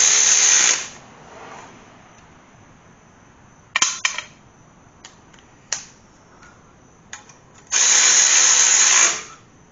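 A power tool tightens bolts on a Corvette big block engine bracket, with two long whirring bursts at the start and end and short ratcheting clicks and taps in between, close and clear.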